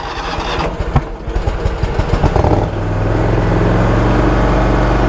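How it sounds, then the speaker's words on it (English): A 2019 John Deere Z7 Ztrak zero-turn mower engine cranks with rapid clattering turns, then catches and settles into a loud, steady close-up idle. "And we're gonna start this mower."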